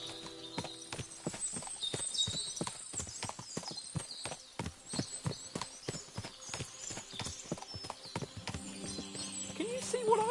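Many horses' hooves clip-clop in a busy, uneven rhythm in the video game Kingdom Come: Deliverance II, with an occasional whinny and faint voices mixed in the background.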